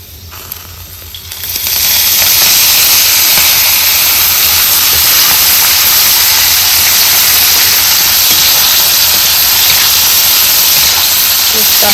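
Cooking oil poured into a hot pan of roasted field beans for aamti bursts into a loud, continuous sizzling hiss that rises sharply after a quieter start and holds steady close by.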